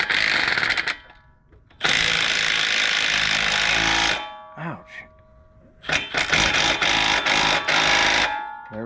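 A power impact wrench hammers loudly on a sway bar bolt during a Teraflex quick disconnect install, with two long bursts and some shorter ones broken by brief pauses, heard up close.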